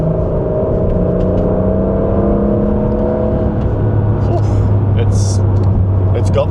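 Porsche 911 GTS 991.2 accelerating hard on a road, engine note climbing in pitch and then settling into a higher steady drone, heard from inside the car with brief clicks and a short voice near the end.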